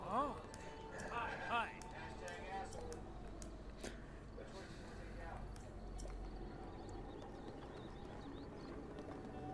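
Horse hooves clip-clop in The Legend of Zelda: Breath of the Wild, a soft steady gallop under game ambience and music, with players talking over it.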